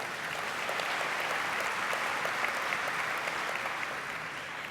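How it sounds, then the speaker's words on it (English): Audience applause at an annual meeting awards program fills the room, a steady dense clapping from a sizable crowd held at an even level without talk. "Could they please give a round of applause"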